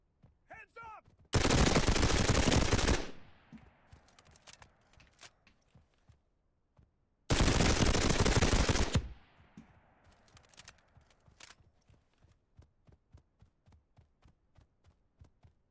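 Two long bursts of gunfire in the extraction shooter Reaper Actual, each roaring for about a second and a half with quieter thuds and clicks in between.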